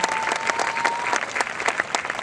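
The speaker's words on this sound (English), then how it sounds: "One more round of applause for our outstanding speakers," Steady crowd applause at a high school graduation ceremony, dense overlapping claps filling the space at an even, loud level throughout.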